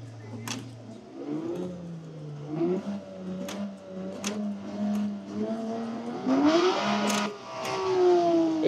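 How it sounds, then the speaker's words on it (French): A Porsche GT3 RS revs repeatedly at close range, its engine note climbing and falling in smooth sweeps with sharp blips and clicks between the revs. "Si vous voulez voir ce que ça fait d'accélérer une GT3 RS, on peut même la démarrer."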